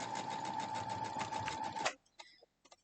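A sewing machine stitches a quilt block in a fast, even mechanical whir of needle strokes that runs steadily for a couple of seconds, then stops abruptly, leaving faint small clicks and handling sounds.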